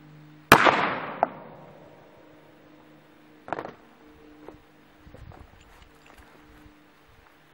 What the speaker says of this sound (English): We're gonna go to the 9mm Beretta Nano.